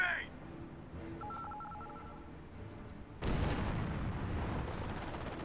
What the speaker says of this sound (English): That was a landmine detonation there, but what was that explosion there?